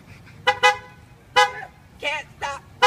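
Several short car horn toots in quick pairs and singles, fairly close, with faint background noise between them.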